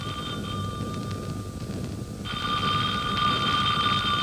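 A telephone rings as a radio drama sound effect, a steady electronic bell tone that carries on continuously, growing louder partway through, with no talk over it.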